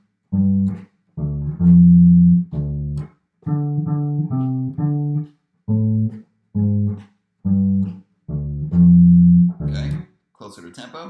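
Bass guitar plays a pentatonic riff, clear close single notes in a repeating phrase with short gaps between, some notes held longer, played slightly slower than tempo.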